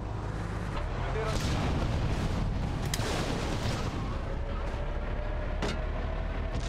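An army tank's cannon fires repeatedly in the video game GTA Liberty City Stories: several sharp, heavy booms burst over a continuous low rumble of engine and explosions.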